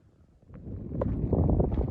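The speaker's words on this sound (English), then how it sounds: "It's kind of windy, so I have my mic in my hand, and I'm trying to shield you guys from that." Low, rumbling wind buffeting a handheld microphone in a ghost town, growing louder partway through and staying steady and close with no voices.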